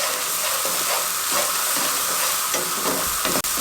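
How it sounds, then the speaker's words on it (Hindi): Ground whole spices and four cut green chillies frying with mutton in a pan, a loud continuous sizzle and hiss with faint stirring scrapes throughout and no talking. "अच्छे तरीके से मिसाले की भुनाई कर लेंगे 2 से 3 मिनट।"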